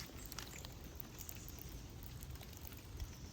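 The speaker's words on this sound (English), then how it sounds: "and now it's raining from the trees." Fat drops of water fall from eucalyptus trees after a light breeze, making a steady, soft patter with scattered sharper taps; faint and spread out, no voices.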